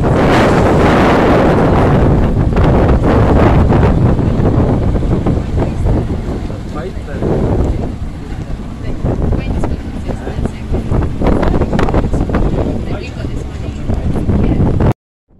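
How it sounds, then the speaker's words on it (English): Strong wind buffets a microphone on an island beach with loud, continuous rumbling gusts, near and roaring, with a voice partly buried beneath. "I can immediately feel how heavy the wind is."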